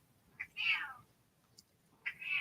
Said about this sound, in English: This cat wants attention now.